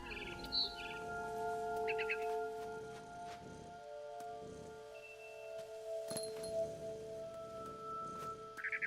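A barn swallow in What Remains of Edith Finch gives a few short, bright chirp bursts, faint and spaced apart over soft sustained game music.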